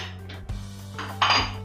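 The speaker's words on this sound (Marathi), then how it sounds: "इथे मी गरम करायला पातेलं ठेवलेलं" A metal pot clanks down onto a stovetop to heat oil, followed by a brief scraping clatter, close and fairly quiet.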